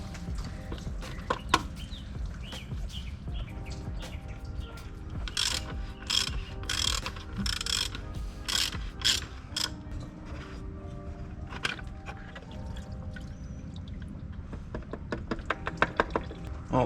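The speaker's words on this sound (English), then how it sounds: "let's get our ratchet and pop it open." A ratchet wrench loosens the fuel filter housing on a 7.3 diesel engine, giving rapid bursts of close, sharp mechanical clicks with brief pauses between turns.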